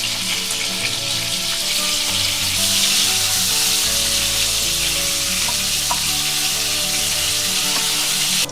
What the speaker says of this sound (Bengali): তেলটা গরম হলে পটলগুলো আমরা আস্তে আস্তে তেল ছেড়ে দেব।